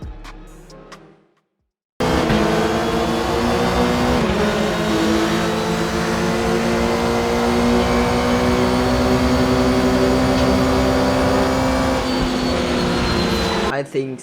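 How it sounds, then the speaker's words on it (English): A Nissan R90CK race car engine in the RaceRoom racing game roars loud and close after a moment of quiet, holding a strong droning howl with shifting revs for over ten seconds before it cuts off. "let's hear how this beast of a car sounds"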